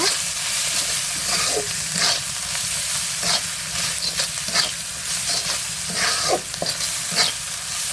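Spices sizzling and frying in hot oil in a pan for a Bengali-style chicken curry, with a steady close crackle and repeated scraping strokes of stirring throughout.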